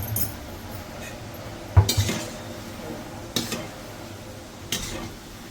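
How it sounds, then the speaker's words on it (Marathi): Wheat-flour pieces stirred and sautéed in a pan over medium heat: a low steady sizzle under three distinct clanks of the spatula against the pan, spaced a second or more apart. "थोडंसं आपण असं ढवळत राहायचंय, अशा परतत राहायचं."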